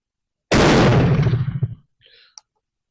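A single loud Snider rifle shot fired close by, a sharp blast that rolls into a decaying rumble for about a second, followed by faint clicks as the breech is handled.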